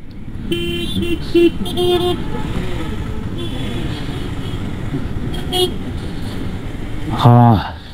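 Busy traffic on a road in India, on the route from Amritsar to Srinagar, with engines droning close by, several short horn toots and a longer blast near the end, while a voice talks in the background.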